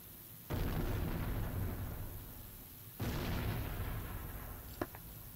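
Two heavy explosions go off at target practice, each a sudden deep blast followed by a long rumbling decay, with a faint sharp pop near the end of the second.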